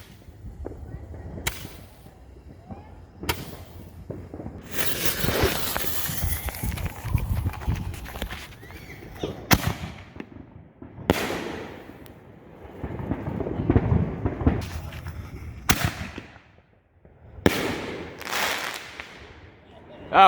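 Backyard Fourth of July fireworks burst in repeated sharp cracks and crackling sprays at fairly close range, with longer fizzing stretches between blasts and people talking over them.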